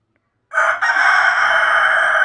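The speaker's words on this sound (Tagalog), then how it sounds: "Napakaingay ng manok natin." A rooster crows loudly and close by, one sustained call that begins abruptly after a moment of silence and holds steady to the end.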